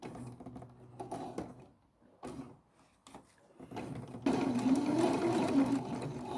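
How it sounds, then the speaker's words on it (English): Sewing machine stitching an elastic casing on slippery fabric, starting with short stop-start bursts and then running into a louder steady whir near the end, close and without talk. "I must be careful not to sew through the elastic, but just close to it."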